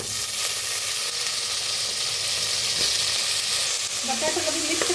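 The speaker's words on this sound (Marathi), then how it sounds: "कांदा हिरवी मिरची चांगली भाजायला लागल्या त्याच्यात टाकूया बटाटो" Sliced onion, green chilies and potatoes frying in a pan for spiced rice, producing a loud, constant hissing sizzle close by with faint stirring knocks.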